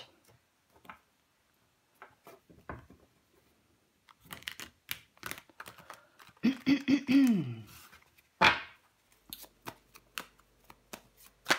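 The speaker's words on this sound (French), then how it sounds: "On va recouvrir des cartes. On recouvre des cartes." Tarot cards are handled and flipped over on a table in quick soft snaps and shuffling flicks, scattered and close, with a sharper burst of handling near the end and a few quiet vocal sounds between.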